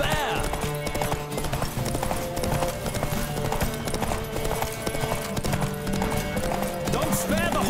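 Hoofbeats from a horse racing at full gallop in The Witcher 3 pound on without pause, moderately loud beneath dense music and game ambience while a voice talks now and then.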